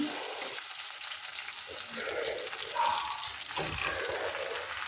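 Steady sizzling and crackling of ivy gourd frying in hot oil in a pan, fairly close, with a few soft stirring scrapes and no voices.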